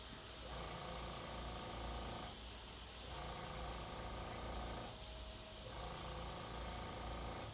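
An airbrush sprays paint with the air left running, producing a loud, steady close hiss throughout, with the tone briefly dipping twice as the paint flow is eased off.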